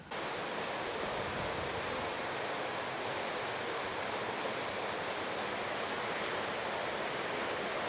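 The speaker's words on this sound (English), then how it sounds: "there's one actually with a really cool waterfall over there" A waterfall in a cave above the Greek theatre in Syracuse, a steady broadband rush of falling water, even and continuous throughout with no voices.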